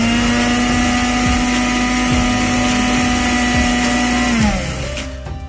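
A kitchen mixer grinder whirs loudly and steadily as it grinds poppy seeds and sesame into a paste, with a high motor whine and rhythmic pulses, then spins down near the end.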